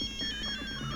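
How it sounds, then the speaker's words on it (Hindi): A phone ringtone plays nearby, a steady electronic melody that repeats its short notes for the whole second at even volume, with no voices. "सर बज रही है सर, अब फोन की घंटी ही"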